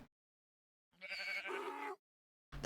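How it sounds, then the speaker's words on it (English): A donkey in Minecraft gives a single braying call of about a second, clear and isolated against silence, followed by a short clipped noise at the end. "Yeah, the donkeys sound really cool. They do actually sound like a real donkey."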